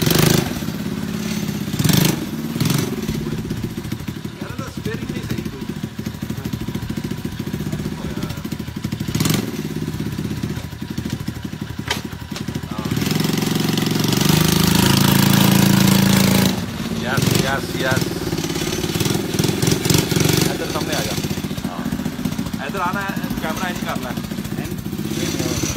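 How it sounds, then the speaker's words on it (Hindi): A motorcycle engine runs steadily at low speed in reverse with some clattering, while someone talks over the rumble. "और ये मोटरसाइकिल रिवर्स में भी चलती है"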